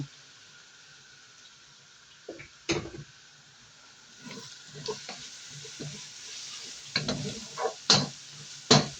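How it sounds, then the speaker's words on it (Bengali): Potatoes fry in a pan with a low, soft sizzle, broken by intermittent scraping and clattering stirs that come in short bursts, close by and without any talking. "এই যে আলু ভাজছি"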